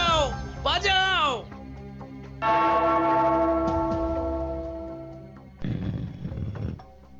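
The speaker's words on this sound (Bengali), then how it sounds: "ওই ঘন্টাটা বাজাও, বাজাও।" Cartoon bell being rung, heard as sustained ringing tones that swell and slowly fade after an opening of animated cartoon voices, with a burst of noisy sound near the end.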